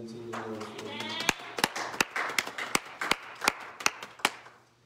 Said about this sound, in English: Would you clap your hands into the Lord for me?